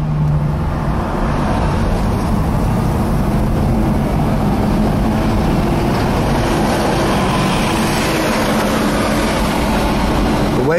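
A 1972 Chevelle with stock 2.5-inch GM mufflers cruises along, its low, steady exhaust drone and road rumble filling the cabin loudly and continuously.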